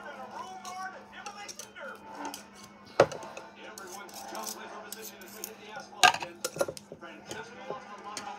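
Ingredients being mixed gently in a small mixing bowl, light clinks and taps of utensil on bowl with two sharper knocks, under a steady low hum and quiet talking.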